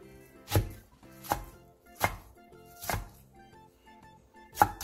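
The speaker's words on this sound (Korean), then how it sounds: "상추를 길게 펼친 뒤 먹기 좋게 3에서 4cm 정도 길이로 잘라주세요." Lettuce cut into short lengths with a knife on a board, five distinct slow chopping thunks spaced about a second apart, close and clear with no speech.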